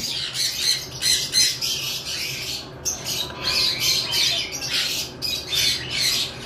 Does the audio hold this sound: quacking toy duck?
no